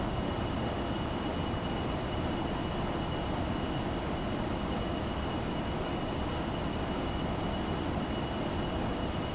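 Jet engines of a Virtavia C-17 Globemaster, a big turbojet transport in X-Plane 11, heard as a steady, dense roar with a faint high whine that stays constant throughout.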